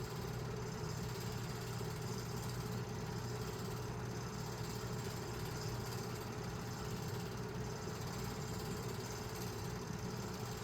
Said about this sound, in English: Steam engines backing up to take and reboard the passengers to head on into Danville.